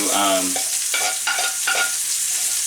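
Meat sears on a hot plate with a loud, continuous sizzle close up, broken by a few brief scrapes or shifts as it is moved.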